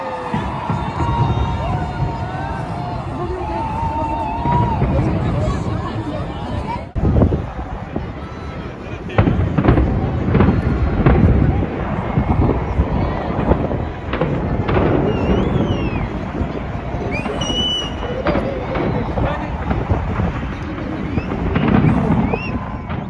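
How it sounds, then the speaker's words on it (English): New Year's Eve fireworks in downtown London boom and crackle repeatedly, with crowd noise, cheering and wind buffeting the microphone throughout the loud, busy scene. "on the way to downtown to see the fireworks"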